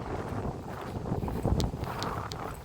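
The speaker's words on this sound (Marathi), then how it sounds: "वाऱ्यानं काय ऐकायचं लय वार सुटले" Strong wind buffets the microphone in a field during maize sowing, a steady low roar gusting harder around the middle, with a few faint high clicks on top.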